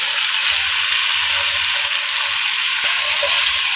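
Steady loud sizzling of chopped onion frying in a hot pan for karela chicken, a continuous hiss with a brief clatter near the end.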